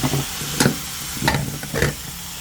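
Catfish stir-fried in a pan hisses and sizzles up close, broken by three sharp scraping stirs of the spatula, without any voices.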